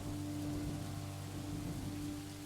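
Steady rain in the video game Pendragon, a constant soft hiss of falling drops over a low tonal drone from the game's ambience, faint and unbroken with no talk.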